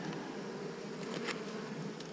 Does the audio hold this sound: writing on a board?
no